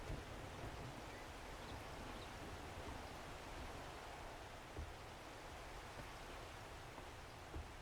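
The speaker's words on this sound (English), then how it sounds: "Might just turn that rain off. It's not helping matters any." Steady rain from the video game Darkness Falls, a dense continuous hiss with no distinct drops or thunder, even and fairly soft throughout with no voices.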